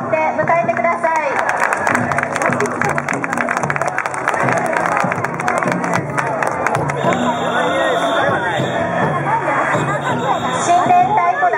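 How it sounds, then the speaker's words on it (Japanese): Crowd at a Japanese festival clapping and cheering to welcome a taiko float, lively applause mixed with shouts and drum-like rhythmic beats, with an announcer's voice and crowd chatter throughout. "皆様拍手を持って迎えてください。"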